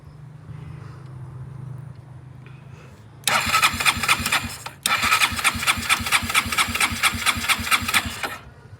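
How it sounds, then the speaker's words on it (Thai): A carburetted engine with its idle speed being set catches after a quiet lead-in and settles into a steady, loud, chugging idle. It cuts out briefly partway through, then runs on evenly until it stops. "เดี๋ยวครับผมตั้งสโลให้แก่หน่อย"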